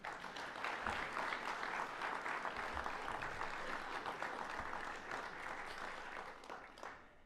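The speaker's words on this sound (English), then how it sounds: "Let's give all of them a big round of applause." A crowd at a university athletic hall of fame ceremony gives the new inductees a sustained round of applause, dense and even at moderate loudness, tapering slightly near the end.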